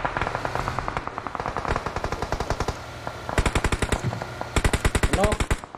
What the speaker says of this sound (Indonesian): Tembak-tembakan aja ban mobilnya kan.